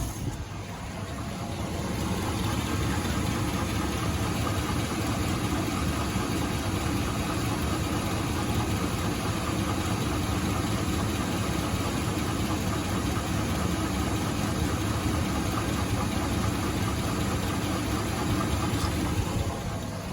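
A rough, shaky truck engine, running badly, idles steadily and loudly at close range, with a constant low rumble and uneven knocking throughout.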